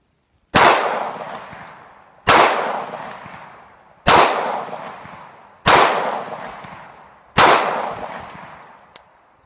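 Five loud, evenly spaced .45 pistol shots from a Dan Wesson Specialist Commander fired at steel targets outdoors, each sharp crack followed by a long decaying echo.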